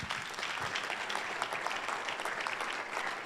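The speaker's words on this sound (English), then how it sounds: "please just give a round of applause for Jonathan Magdaleno" Sustained applause from a banquet audience for a scholarship recipient, a fairly quiet but even patter of many hands clapping throughout, heard from a distance with no talking.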